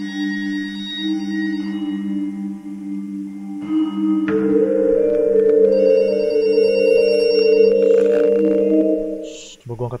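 A telephone rings in the horror video game Horror Noodles, a steady electronic tone that shifts in pitch partway through, loud and close, continuing for several seconds and cutting off near the end.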